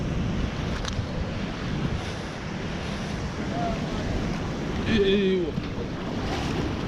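Open sea from a small fishing boat: a steady, fairly loud wash of wind and waves buffeting the microphone throughout, with brief voices and a short tonal call about two-thirds of the way through.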